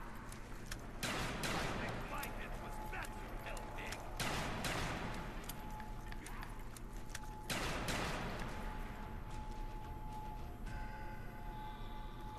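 Shotguns fire in Call of Duty zombies on the Moon map, several sharp repeated blasts spaced a few seconds apart over a steady game backdrop with a faint tone.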